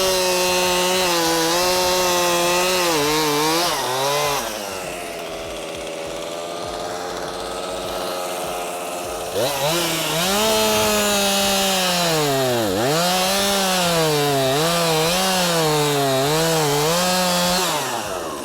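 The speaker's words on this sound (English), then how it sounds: "You push them in and the chainsaw does the work." A chainsaw cuts wood during tree removal: a loud, close engine drone rises and falls in pitch as the chain bogs into the cut, holds a lower idle for a few seconds, then revs up hard again.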